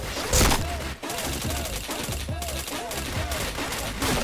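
Rapid gunfire bursts from a shooter video game repeat in quick rhythmic volleys, with sharp cracks and short pauses between them.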